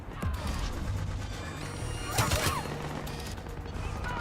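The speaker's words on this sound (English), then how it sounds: "Oh, there's everyone shooting up there." Gunfire from a firefight in the sci-fi shooter Mass Effect 3, with scattered shots and a burst of sharp cracks and impacts over a busy background of game effects and brief voices.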